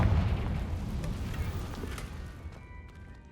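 A Confringo blasting spell exploding in Hogwarts Legacy, a loud booming burst at the start that rumbles and fades out over a few seconds.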